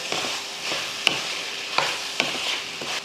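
Chicken masala stirred in a pan over high flame, with a steady sizzle broken by three sharp scrapes of the spoon against the pan, close and fairly loud.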